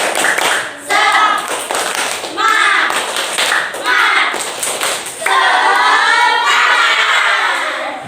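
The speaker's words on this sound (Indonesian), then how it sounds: "Yo, tepuk semangat." A classroom of children does tepuk semangat, bursts of rhythmic group clapping with thumps, broken by short pauses and a teacher's chanted calls between the patterns.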